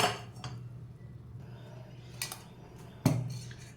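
Metal cookware clanks on a stovetop as a kadai is set down for cooking usal, with a few separate clinks and one sharper knock near the end over a low steady background hum.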